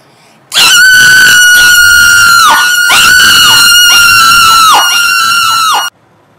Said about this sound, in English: A little girl with bluish skin ran up to them, screaming.